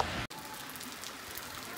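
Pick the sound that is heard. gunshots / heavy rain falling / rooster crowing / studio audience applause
heavy rain falling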